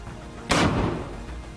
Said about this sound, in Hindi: उसके लड़ाके लॉन्चर्स में पहले तो रॉकेट फिट करते हैं और उसके बाद उन्हें दनादन